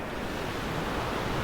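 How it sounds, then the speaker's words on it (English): Strong wind of 35–40 mph gusting up to 50 roars against the microphone outdoors at a house under construction, a loud, dense, continuous rush with no voices. "I don't know if you can hear the wind"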